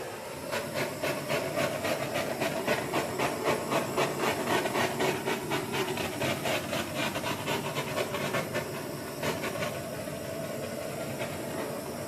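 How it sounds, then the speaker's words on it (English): A torch flame hisses close up over an acrylic paint pour: a steady broadband hiss with a quick pulsing flutter that fades and softens toward the end. "let's torch and see what happens"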